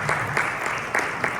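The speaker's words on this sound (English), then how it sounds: "can I ask you to give a round of applause to the guy in the jacket" Brief applause from the audience at a NAMM session, a dense crackle of clapping hands with a few sharper claps standing out, fairly loud and close for just over a second.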